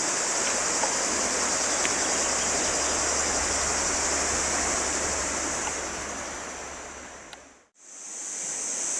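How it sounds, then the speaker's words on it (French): A nearby river rushes and churns in a constant broadband roar. The sound holds steady, then dips sharply for a moment near the end before returning. "C'est la rivière qu'on entend."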